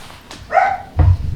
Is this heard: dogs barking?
yes